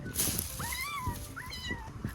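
A man imitates a cat's meow with his mouth, drawn-out mewing calls repeated twice in close succession, clear and fairly near over light background noise.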